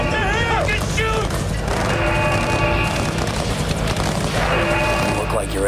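Gunfire in a video game, dense bursts of shots layered with loud music and game effects, continuous and close, with people shouting over it.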